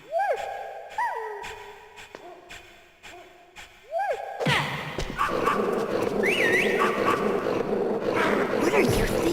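Dog barks and whimpers in a Metal Gear video game: several sharp, close yelps and rising whines, followed by a denser, louder stretch of barking and whining mixed with game sound and voices.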